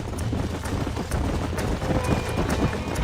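A horse gallops steadily in the Western game Red Dead Redemption, rhythmic hoofbeats running continuously under wind and low rumbling outdoor noise.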